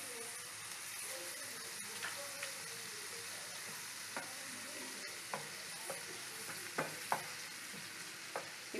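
Spiced poppy-seed, cashew and green-chilli paste with sour yogurt sizzles steadily in a pan for potoler dolma, with soft scattered clicks of a spoon stirring through the gentle frying hiss.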